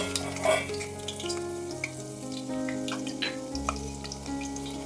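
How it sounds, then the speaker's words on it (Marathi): Crushed garlic fries in hot oil in a kadhai, a soft continuous sizzle with light crackles beneath a steady low tonal hum, no talking. "तेल तापलं की त्यामध्ये ठेचलेला लसूण घालूया।"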